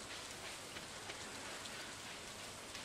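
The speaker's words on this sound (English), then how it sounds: "since it's raining anyway" Steady rainfall in the farming video game Stardew Valley, a dense even patter that carries on without a break at moderate loudness, with no voices over it.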